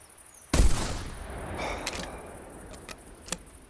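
A single loud, close hunting rifle shot at a deer cracks out sharply, then a rolling echo and rumble trail off, with a few faint clicks and knocks following.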